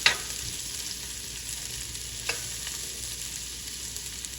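Sausage and tasso browning in a pot for Cajun jambalaya give a steady low sizzle with a few scraping stirs of a spoon, quiet and close, with no voices.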